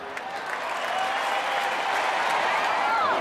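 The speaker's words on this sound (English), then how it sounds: "Out comes the applause." Applause from a crowd, a sustained dense clapping that swells slightly louder over a few seconds, with faint voices mixed in underneath.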